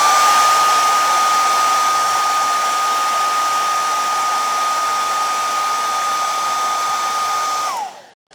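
A hair dryer blows steadily and loudly on wet paint on a glass surface, a constant whirring roar with a high whine that runs unbroken for about eight seconds before switching off at the end.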